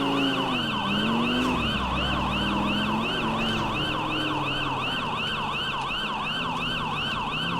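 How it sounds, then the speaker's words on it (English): Wailing police sirens from a Liberty City police car in GTA IV with the LCPD:FR mod, cycling steadily and loudly throughout over a low rumbling vehicle engine, with no talking. "Right, kill the sirens"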